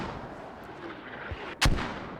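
Mortar artillery fire in a video game match: a distant muffled thump followed by a sharp, loud blast near the end over a low ambient rumble, with no talking.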